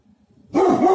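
Several dogs break into loud, excited barking after a near-silent start, a dense burst of overlapping barks and yips filling the second half.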